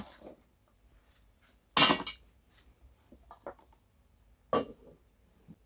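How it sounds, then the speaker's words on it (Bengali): Whole dried turmeric pieces dropped into a Tefal mixer grinder jar, a few sharp hard clatters and rattles, one loud burst and a later smaller one, with faint knocks between in an otherwise quiet room. "আমি এখন এখানে কিছু আস্ত হলুদ দিচ্ছি"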